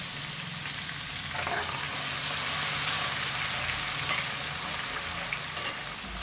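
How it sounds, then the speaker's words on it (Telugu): Crushed garlic hits hot oil with the stove switched off, producing a steady, close, loud sizzle that crackles continuously without pause while a homemade red chilli and tomato pickle is prepared. "ఈ వెల్లుల్లిపై కచ్చాపచ్చాగా దంచుకున్నా కదా అదే వేసేసుకుంటున్నాను"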